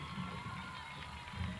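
Crowd at a rodeo show in Búzios, Brazil, applauding a rider, a faint distant wash of clapping and cheering that swells at the start and end.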